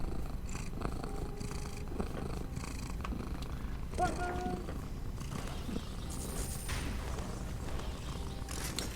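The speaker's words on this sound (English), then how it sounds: "Where I then play the soothing sounds of Petra purring." A cat named Petra purring, played back as a recording: a soft, continuous low rumble with faint thuds and brief higher tones over it, quiet and close.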